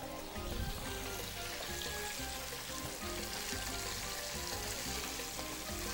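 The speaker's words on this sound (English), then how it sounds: "That'll take a couple of minutes to fry." Shrimp frying in a pan, a steady, dense sizzle and crackle that stays at an even loudness throughout, close and continuous with no talk over it.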